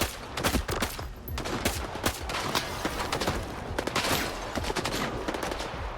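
Rapid gunfire fills a firefight in the video game S.T.A.L.K.E.R. 2: Heart of Chornobyl, with dense bursts of automatic shots and sharp cracks overlapping in a loud, continuous fusillade.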